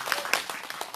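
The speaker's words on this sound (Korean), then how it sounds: "큰 박수로 감사합니다" Brief burst of audience clapping at a Wednesday anti-THAAD protest rally in Soseong-ri, a short run of scattered, fairly close hand claps lasting about a second.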